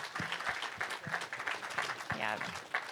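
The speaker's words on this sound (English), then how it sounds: "Let's give them a round of applause." Audience applause for panelists at a land-ownership panel event, continuous clapping throughout with voices talking and cheering over it.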